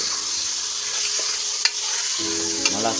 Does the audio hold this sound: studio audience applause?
no